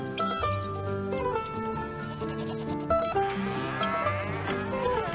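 Goats bleating over layered background music, several short calls rising above a steady melodic backdrop.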